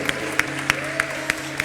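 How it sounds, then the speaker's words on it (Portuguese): During a Sunday celebration worship service, a congregation claps in a steady, evenly spaced beat, sharp claps about three times a second over a sustained musical tone in the background. "Você pode aplaudir o Senhor."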